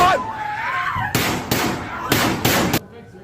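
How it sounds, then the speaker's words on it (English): Gunfire inside a high school classroom during a shooting, rapid sharp loud bangs in quick succession, preceded by a person screaming in panic. "that wasn't one or two shots, that was a lot of shots"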